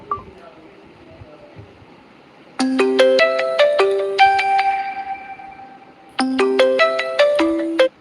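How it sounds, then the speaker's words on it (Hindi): A mobile phone rings with an incoming call during a live folk-song stream: a bright, melodic electronic ringtone plays a rising run of tones, pauses, then starts the same phrase again, loud and close after a quiet start. "मैं कॉल आ रहा उठा नहीं सकती हूँ ना"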